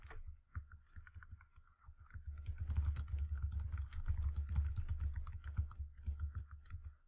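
Fingers typing on a computer keyboard, a quiet run of rapid close key clicks with brief pauses, no voices.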